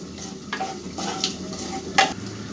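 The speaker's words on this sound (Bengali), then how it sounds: "তেলের মধ্যে আমি 1 চামচ জিরে দিলাম, হিং দিয়ে দেবো।" Cumin seeds and asafoetida sizzle in hot oil in a pan, a steady crackling fry with a few brief stirring scrapes and clinks, close and fairly loud, with no talking.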